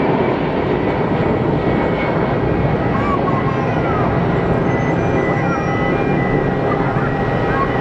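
A jet plane takes off at Geneva Airport with a loud, steady engine roar that fills the whole stretch, and voices are faintly mixed in.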